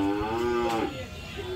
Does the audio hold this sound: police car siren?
no